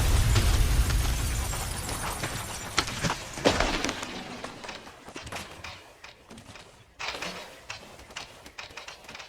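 Explosion sound effect in an aircraft emergency: a loud, heavy burst of roaring, crashing noise in the first few seconds, then scattered cracks and rattling debris that thin out and fade, with one more sharper hit near the end.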